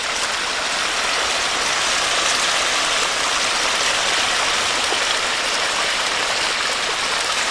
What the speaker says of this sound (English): I thought I heard water further down